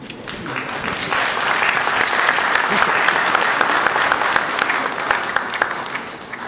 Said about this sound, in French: Je pensais que quelqu'un pouvait m'applaudir.